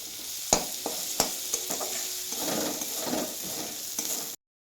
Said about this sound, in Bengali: এই পেঁয়াজটা একদম লাল লাল করে ভেজে নিচ্ছি